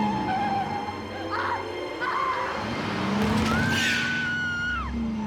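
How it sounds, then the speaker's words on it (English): A car turning hard with tires skidding and squealing, a rising screech under engine noise amid dramatic background sound, loud and close. "As Clara turns the car."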